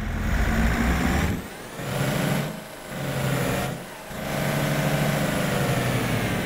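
A loaded tractor engine in Farming Simulator 22 drones steadily near and loud, dipping briefly three times as the revs fall and recover, then holding a constant roar.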